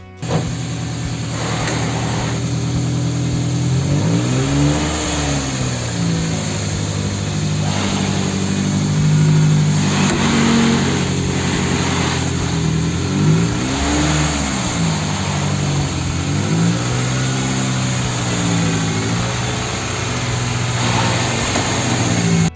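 An old Toyota Celica engine, still running on old oil, runs nearby, loud and steady, with its pitch rising and falling as it is revved in several swells.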